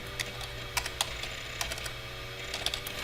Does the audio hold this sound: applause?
no